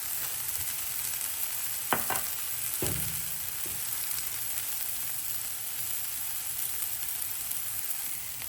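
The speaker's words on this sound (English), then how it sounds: "So I'm gonna start with the onion, and I'm just gonna saute this till it softens." Red onion sautéing in a pan with a little salt and pepper, giving a steady soft sizzle throughout with a few brief stirring scrapes near the start.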